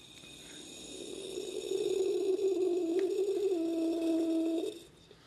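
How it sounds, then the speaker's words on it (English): An AeroPress being pressed down to push coffee through, giving a sustained low groaning squeak that rises, holds for a few seconds and then cuts off, fairly close with no talking. "I got the AeroPress ready to press, so we're going to press this out."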